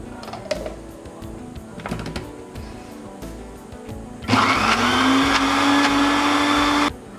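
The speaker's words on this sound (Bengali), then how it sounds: "এখন আবারও আমি এক মিনিট সময় নিয়ে ভালো করে ব্লেন্ড করে নেব" An electric blender whirring loudly at a steady pitch for about two and a half seconds as it whips homemade mayonnaise with oil and salt, after quieter kitchen handling sounds.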